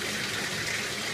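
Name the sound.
water poured over a dog to rinse soap from fur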